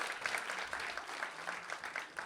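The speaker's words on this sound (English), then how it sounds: "A big round of applause." An audience applauding after a student dance showcase, a dense, even patter of many hands at a modest, slightly distant level that continues without a break.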